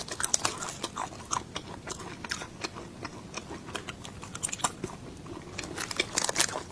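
Close, wet chewing and crunchy bites on spicy meat at a mukbang meal of spicy mutton curry and quail egg curry, repeated irregular mouth sounds at moderate level with no talking.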